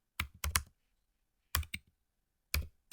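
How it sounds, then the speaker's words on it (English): Computer keyboard typing in short bursts of crisp clicks, a quick cluster of keystrokes followed by pairs separated by quiet gaps, close and fairly soft. "We will type our 168"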